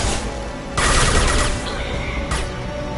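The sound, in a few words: gunfire at tanks in video game Mass Effect 2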